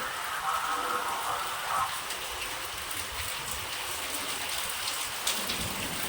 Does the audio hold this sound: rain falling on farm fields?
yes